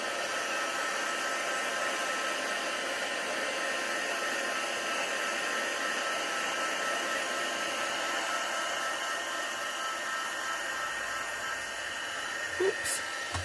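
A hair dryer blows steadily on a painted craft background for a twinchie card, a constant close whooshing hiss that runs unbroken before a faint knock near the end.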